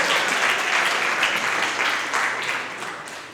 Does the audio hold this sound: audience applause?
yes